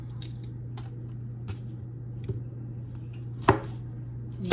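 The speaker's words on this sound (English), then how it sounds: "I'm just going to make slices." A knife slices a green pepper on a cutting board, making a handful of crisp, separate cuts at uneven intervals, close by and over a low steady hum, with no speech.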